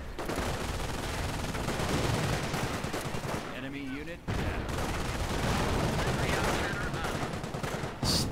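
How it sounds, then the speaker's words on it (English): Dense rifle and machine-gun fire crackles nonstop through a World War II game battle on a city's outskirts, loud and close, with one short lull before the shooting resumes. "It's a pretty nice rifle fight going on."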